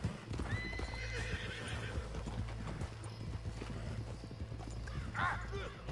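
Horse hooves clip-clop steadily with a neigh in Red Dead Redemption 2's online Western world, the hoofbeats continuous and close over a low rumbling backdrop.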